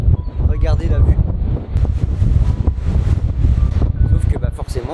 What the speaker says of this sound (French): pour avoir cette vue là il y a du vent